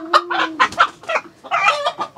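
A chicken clucks close by in a village setting, giving a rapid series of short, loud, throaty calls in two bursts with a brief pause between them.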